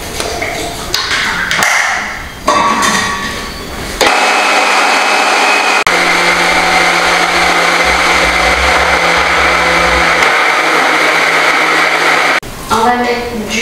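A kitchen blender whirs steadily as it purées ingredients with oil and water, loud and continuous for several seconds after brief tapping and clatter, then stops abruptly before more clinks.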